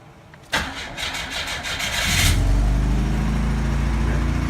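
A 1984 Pontiac Fiero Indy engine cranks with a rapid whirring starter for a couple of seconds, catches, and settles into a steady, loud, close idle with a slight rattle, with no voices.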